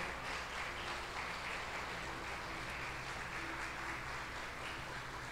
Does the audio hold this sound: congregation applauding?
yes